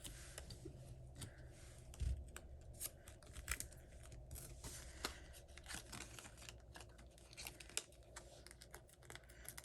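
Scissors snipping paper into small pieces at a stamping and card-making craft table, faint and irregular, with scattered light snips and paper rustles and no talking.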